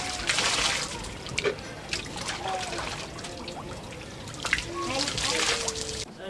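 Water pours and splashes from a hand water pump as women bathe under it, a soft trickling and splattering that rises in uneven bursts and dribbles, fairly quiet with faint background sound.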